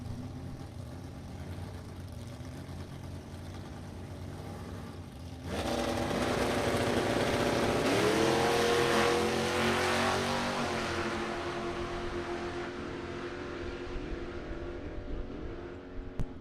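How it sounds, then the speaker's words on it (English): Two drag racing cars at a bracket nationals event rev their engines as the drivers work the throttle, a steady idle drone jumping into a loud, sustained roar with rising pitch, heard from a distance. "Both drivers working the throttle by the sounds of things from up here."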